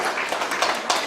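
Audience applause at a panel discussion on hybrid warfare, a dense burst of many hands clapping, steady and moderately loud, heard alone over about a second.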